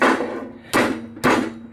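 Hammer blows on an electric motor being scrapped for its copper windings: three loud, sharp metallic strikes about half a second apart, each ringing out briefly, close and with no talking.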